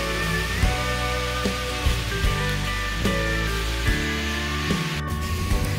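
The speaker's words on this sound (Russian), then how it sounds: "Посмотрите, какой красивый водопад и как изысканно он сделан." Decorative waterfall at a Dead Sea resort in Jordan, a steady close rushing wash of falling water that stays continuous and fairly loud throughout, with faint background music-like tones and no talk.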